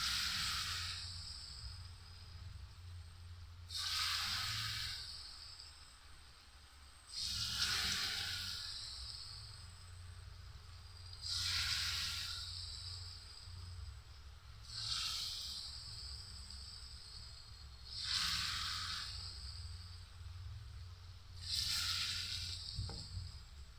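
Banana fritters bound with flattened rice frying in barely warm oil, soft bursts of sizzling hiss that swell and fade about every four seconds, close and quiet, with no talk.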